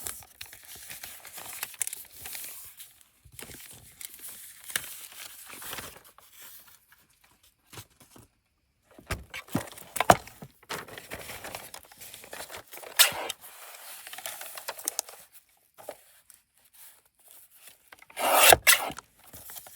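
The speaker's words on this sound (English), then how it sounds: "So what I want to do is I want to fold this in half, and then I want to come in and trim over here." Paper being folded in half and trimmed for a decorative scrapbook pocket, heard as soft intermittent rubbing, rasping and crinkling with quiet gaps, close and unaccompanied by talk.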